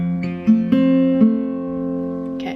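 Acoustic guitar plucking pattern for the song Wala Kang Katulad, a bass string followed by quick picked higher strings, several close, clear note attacks over a sustained ringing chord.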